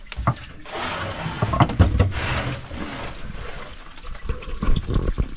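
Water splashing and gurgling aboard a sailboat, in uneven bursts with a few knocks and clatters, close and moderately loud.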